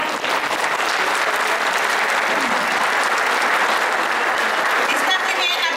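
A crowd of retirees at a Mexican electricians' union celebration applauds in a steady, dense wash of clapping that holds at an even, loud level throughout.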